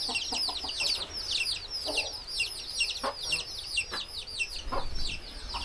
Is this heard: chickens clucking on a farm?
yes